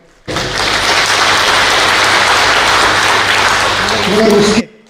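An outdoor rally crowd at a political speech bursts into loud, dense applause that starts abruptly, sustains as a thick roar of clapping for about four seconds, then cuts off sharply.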